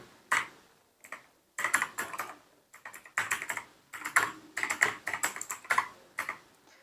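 Bursts of clattering keystrokes on a computer keyboard as an email address is entered, close and crisp, arriving in quick runs separated by short pauses.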